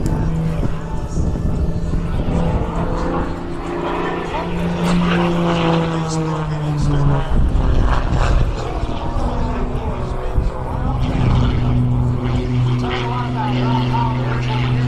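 Aerobatic propeller airplane performing a diving, accelerating maneuver at the 2023 Columbus Air Show, its engine droning steadily with rising and falling pitch sweeps throughout, loud and continuous beneath a commentator's voice.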